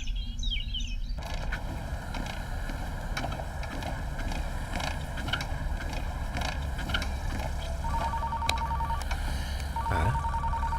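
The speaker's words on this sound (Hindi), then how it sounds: "कटप्पा का फोन आया है।" A telephone rings in a dubbed comedy film scene, with a repeating electronic tone sounding in short bursts late in the clip over a steady background hum, with no talk.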